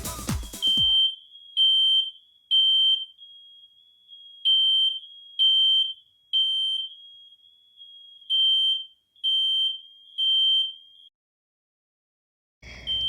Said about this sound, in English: If you said a smoke alarm